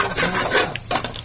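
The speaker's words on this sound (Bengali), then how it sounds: "গরম তেলের মধ্যে আমি ঢেলে দিচ্ছি শুকনা মরিচ, আগে একটু ভেজে নেব" Dried red chillies hit hot oil for a tempering of onion and garlic, raising a short burst of crackling sizzle with a few scraping stirs and light metallic clinks, over in about a second.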